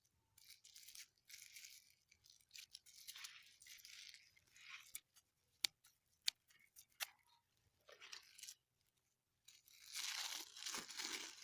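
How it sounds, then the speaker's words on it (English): Rope being cut and polythene wrap pulled off an air layer on a guava tree: sporadic close snips, crinkles and tearing rustles in bursts, with a longer crackle of plastic near the end and no talk. "Cut this rope and remove this polythene."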